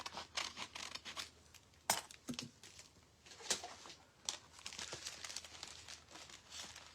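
Rice paper for decoupage crinkles and tears as it is cut out and pulled free, a series of soft, irregular rustles and sharp rips, close and quiet.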